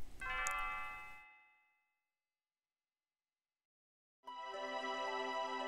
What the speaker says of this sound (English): Ah, Lean's bell makes such beautiful music.